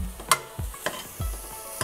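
Tomatoes, celery and jalapeno sauté in a pan for lentil soup, with quick spoon stirs and taps over a low sizzle.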